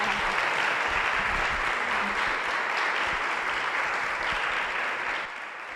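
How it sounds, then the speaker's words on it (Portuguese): An audience at a church Family Week gathering bursts into dense, continuous applause that holds steady and then tapers off near the end, with little talk over it. "Mais uma salva de palmas."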